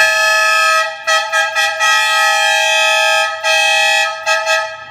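Triple vegetable-vendor horn fitted to a Hyundai HR truck, blaring a loud multi-tone chord in a series of long and short honks with brief pauses, close and dominant.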